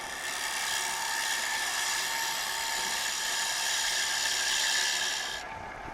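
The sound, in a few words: wood lathe turning, light cuts with a tool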